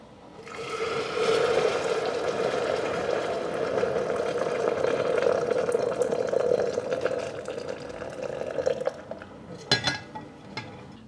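Water runs steadily over a die-cast Matchbox Daimler ambulance toy car, rinsing it after caustic soda paint stripping. It is a continuous splashing flow for several seconds, then stops, followed by a few drips and handling clatters.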